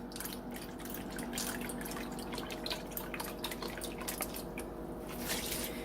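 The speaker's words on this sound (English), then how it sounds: "Then you're going to put in 2 cups of vegetable broth." Vegetable broth trickles and drips steadily into a slow cooker, a soft continuous liquid pour with small splashes and no voices.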